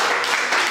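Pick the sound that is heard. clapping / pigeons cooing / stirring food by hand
clapping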